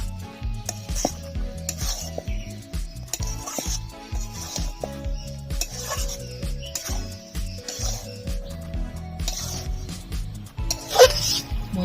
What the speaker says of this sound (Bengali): গুঁড়ো করা মশলাটা দিয়ে দেব ভালো করে মিশিয়ে নেব